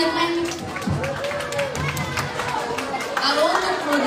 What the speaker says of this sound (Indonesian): Tepuk tangannya dong buat peserta Year 9.